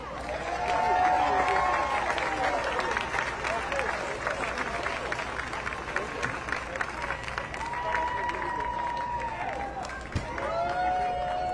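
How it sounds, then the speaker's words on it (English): A crowd at a voting-rights march in Atlanta claps and cheers in a long, continuous roar, with shouts and whistles rising above the clapping, loud and close throughout. "So let's give her a round of applause."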